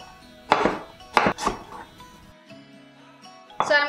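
Knife slicing clean, peeled vegetables and fruit on a board, a few crisp cutting strokes close up with short gaps between them, followed by a light clink near the end.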